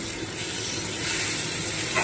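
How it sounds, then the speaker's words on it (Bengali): Taro stolons (kochur lati) fry in a pan in a village kitchen, giving a loud, steady close-up hiss and sizzle that holds even throughout without breaks. "এবারে দেখো, সুন্দর করে লাল লাল করে ভেজে নিচ্ছি।"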